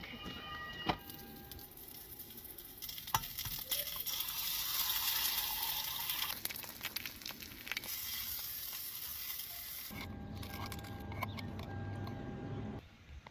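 Breakfast frying in a pan in a grocery store parking lot gives a steady, soft sizzle with scattered crackles and pops, fairly close, with a few clanks near the end.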